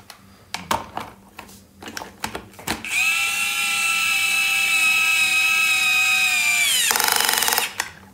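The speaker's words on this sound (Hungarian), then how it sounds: "Próbáljuk meg becsavarni." A power screwdriver drives a large screw into a toy dump truck, a loud close high whine held steady for about four seconds before winding down, preceded by several sharp clicks and knocks of handling.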